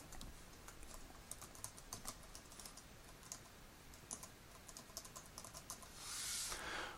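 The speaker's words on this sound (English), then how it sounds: "and now I begin to search for Blanche" Someone types a search on a computer keyboard, a quiet, close run of uneven key clicks with short pauses. A soft hiss swells near the end.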